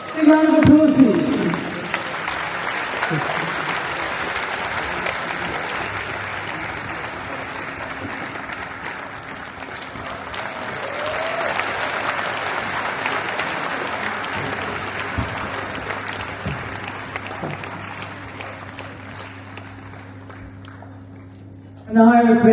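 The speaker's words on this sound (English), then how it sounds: "Big round of applause, please." Audience applause for guests going up on stage at a public gathering: sustained, full clapping that swells and fades over some twenty seconds, with a voice over a loudspeaker briefly at the start and again at the end.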